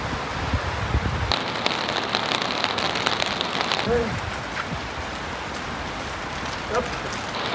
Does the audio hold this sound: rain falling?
yes